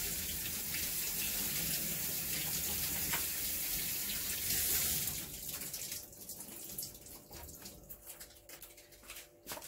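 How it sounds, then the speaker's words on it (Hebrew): Tap water runs steadily from a faucet over matzos being soaked in a kitchen sink, a continuous close hiss that grows louder, then thins into uneven splashing and dripping as the flow is interrupted. "להרטיב היטב את המצות מתחת מי ברז"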